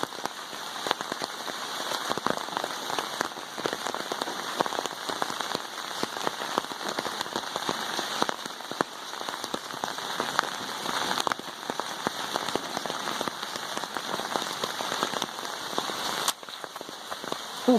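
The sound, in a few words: heavy rain pouring at a flooded campsite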